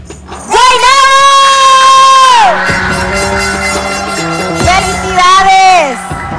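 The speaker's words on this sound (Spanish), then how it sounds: "¡Fuerte el aplauso, Puerto Rico y Filipinas!" A crowd at the Miss Earth Puerto Rico 2022 beauty pageant erupts in loud, close cheering and whooping, with sustained shouted voices rising and falling in two big waves.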